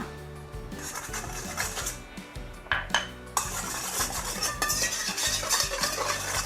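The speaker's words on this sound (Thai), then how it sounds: "คนส่วนผสมให้เข้ากันเลยค่ะ" A spoon stirs a Thai grilled-eggplant salad dressing of fish sauce and seasoning powder in a bowl, giving continuous close scraping and clinking against the dish, with a few louder knocks along the way.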